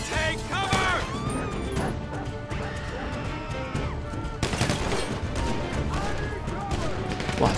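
Golden pistol gunshots in GTA5 during a zombie-style Walking Dead mode: loud crashing shots and impacts over a dense game soundscape, with people talking throughout.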